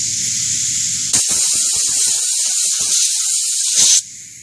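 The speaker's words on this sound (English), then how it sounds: "Then I'm going to take my compressor and blow out. I'm going to blow that thing out." Air compressor nozzle blasting into an opened Babyliss Pro Rapido Ferrari hair dryer, a loud steady hiss of about three seconds that starts and stops abruptly, with a faint hum before and after.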